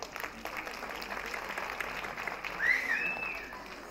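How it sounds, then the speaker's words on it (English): Audience applause after a mini Bollywood dance performance at an ICBF Day 2024 stage event, a steady wash of clapping from a crowd that swells slightly near the end with no talk over it. "I mean, the enjoyment should be reflected with that applause."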